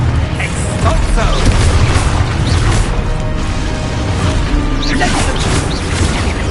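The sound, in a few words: Expulso explosion spell in Hogwarts Legacy video game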